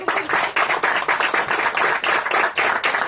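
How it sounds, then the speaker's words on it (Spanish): An audience at a reef-aquarium hobbyist talk applauds, a dense, loud wash of many hands clapping steadily throughout without any speech. "Señores, un aplauso, por favor"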